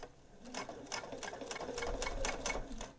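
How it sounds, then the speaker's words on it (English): A sewing machine stitches along the side of a fabric microwave potato bag, a steady fast run of needle strokes with a few pulsing bursts, close and alone. "I'm going to sew on one side first."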